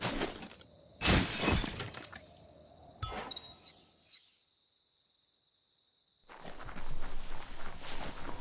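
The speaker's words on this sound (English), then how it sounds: "You shouldn't worry about smashing up the box" A wooden box smashed in Biomutant: sharp splintering crashes and clinks in a couple of loud bursts, with a steady insect-like chirping bed, a silent gap, then renewed clattering and footsteps.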